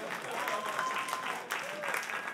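Comedy-show audience applause, a dense burst of many hands clapping that carries on steadily for a couple of seconds, loud and close, with crowd noise mixed in.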